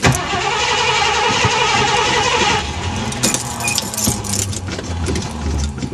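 A cold 1978 Mercury Grand Marquis engine cranks steadily for a few seconds, then catches and fires into a loud, rough run, close to the microphone with no talking.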